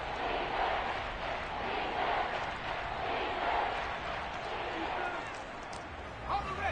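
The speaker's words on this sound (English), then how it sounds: "The crowd getting into it as we come up on a big 3rd down." Football stadium crowd roaring steadily during a televised game ahead of a big third down, a dense, continuous wash of cheering that swells and holds at a loud level throughout.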